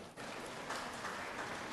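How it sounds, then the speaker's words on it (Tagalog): Congregation applauding in a church, a dense, even wash of clapping from many hands that starts abruptly and holds steady, moderately distant. "Pumalakpak ng malakas."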